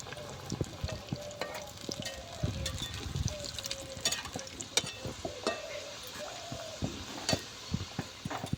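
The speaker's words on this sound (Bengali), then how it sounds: "আমি এখন ডুবো তেলে এগুলো মুচমুচে করে ভেজে নেব" Oil sizzles and crackles steadily as samosas deep-fry over medium heat, with occasional clinks and stirring sounds close by.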